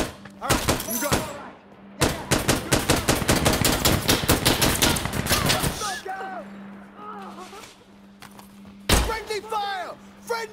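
Rapid automatic gunfire from the video game Insurgency: Sandstorm, dense bursts of close shots packed together, then scattered single shots, with players shouting over the firing.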